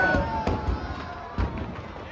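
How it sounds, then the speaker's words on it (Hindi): Fireworks at a Ravan Dahan Dussehra festival crack and thump in a few sharp bursts over a busy outdoor crowd murmur. "और इस बीच देखिए आप, ये आतिशबाजी का नजारा भी शुरू हो चुका है"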